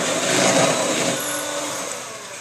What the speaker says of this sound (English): Now we're done with the mixer.